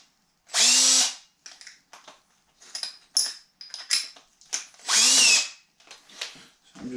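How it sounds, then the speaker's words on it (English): A power drill fitted with a bigger bit countersinks screw holes for a backsplash, giving two loud, close high-pitched whirring bursts a few seconds apart, with quieter handling clatter between them. "I went and got a little bit bigger bit so I can countersink these screws."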